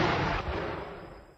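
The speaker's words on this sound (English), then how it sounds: "we can have a good cannon blast if it happens to be there" A cannon blast sound effect: one heavy, broad boom that starts at full force and then decays into a rumbling tail, loud and alone.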